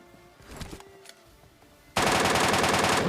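An MK rifle fires in PUBG Mobile. A few faint shots come first, then a loud sustained burst of rapid gunfire starts abruptly and runs to the end.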